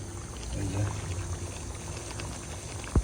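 Lentil dal simmers in a pot on the stove, giving a low steady bubbling and hiss at close range, with a brief louder knock at the very end.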